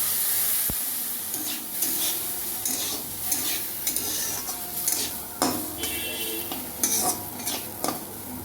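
Semolina pulao stirred in a hot pan, close scraping and sizzling with irregular clinks of a utensil against the metal, steady throughout with no voices.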